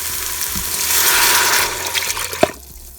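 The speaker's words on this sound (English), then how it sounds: "I'm adding 2 cups of water." Water pours in a rushing stream into a pot for a couple of seconds, then stops with a clunk, leaving quiet.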